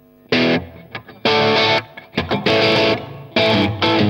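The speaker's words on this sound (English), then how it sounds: "Let's go over to the Marshall. What does that sound like? Bigger box, more power, more distortion." An electric guitar played through a Marshall amplifier with heavy distortion rings out in loud, sustained chords and short bursts, separated by brief gaps of near silence, with no voices.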